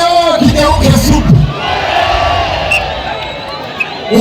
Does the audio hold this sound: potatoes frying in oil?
no